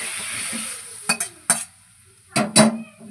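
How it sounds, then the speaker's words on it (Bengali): Cauliflower florets frying in oil in a pan, heard as a soft continuous sizzle broken by several sharp metallic clinks and scrapes of a utensil against the pan, with no talking. "দেখো কপিগুলো ভালো করে ভেজে ভাজছি।"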